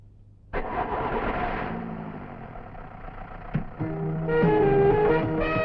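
A vehicle engine cranks and catches with a sudden burst, then settles into a steady idle, with a short knock midway and a revving rise in the final seconds, heard alone and up close.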